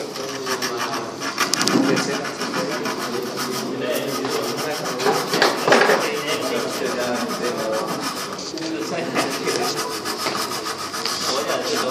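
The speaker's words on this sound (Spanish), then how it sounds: "Pero igual, sería importante lijar un poco" Quick, repeated scraping strokes of sandpaper cleaning a refrigerator pipe before soldering, close and fairly loud, in an uneven back-and-forth rhythm.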